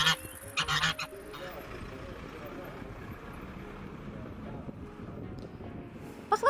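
Birds honk and call near a lake in mixed pine and birch forest, with a few goose-like calls at the start and end over quiet outdoor background noise.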